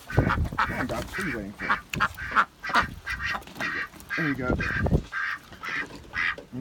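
Backyard ducks quack repeatedly in a busy, close chorus of rasping calls while being herded into a sheltered pen, with a person speaking over them now and then.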